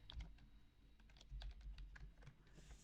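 Quiet keystrokes on a computer keyboard come in short, uneven bursts of clicks, close by with no talking.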